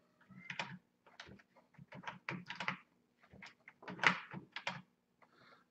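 Bursts of keyboard typing, close and fairly crisp, with irregular clusters of keystrokes and short pauses between them.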